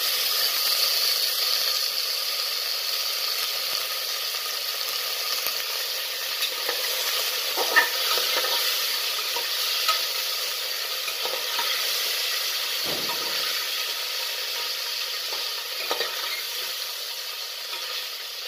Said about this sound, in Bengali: একটু সামান্য নুন মাখিয়ে পনিরটা আমি ভেজে নিই